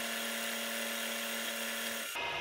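A milling machine cuts a metal vice end stop with a 2mm parting blade, giving a sustained high-pitched whine and steady tonal hum that breaks off abruptly near the end, close and loud with no talking.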